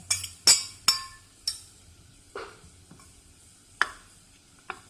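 Spoon stirring and scraping a sabudana khichdi mixture with peanut powder in a pan, with several sharp metallic clinks and softer scrapes at an irregular pace, close and fairly quiet, with no talking.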